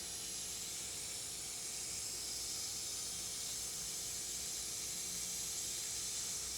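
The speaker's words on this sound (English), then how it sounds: "And now we have fluid bleeding through the system." Brake fluid hisses out of a loosened line fitting on a Civic Type R with stainless brake lines, a faint, steady, airy spray continuing unbroken without any talk.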